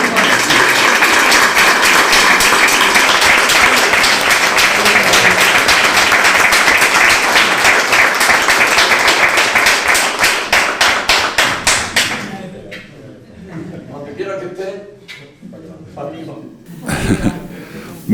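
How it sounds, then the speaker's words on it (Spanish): Audience at a museum tribute to an artist breaking into loud, sustained applause, a dense wash of clapping close by that lasts about twelve seconds, then thins out into scattered claps and murmuring voices. "Un aplauso grande para él."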